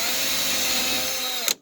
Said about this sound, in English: I just drive the drill bit into the wood.